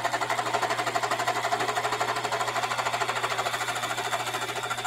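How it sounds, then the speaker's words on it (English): A sewing machine stitching a pocket onto a spring tote bag, a steady rapid mechanical chatter with a low motor hum, running nonstop and close. "I'm going to sew the pocket on next"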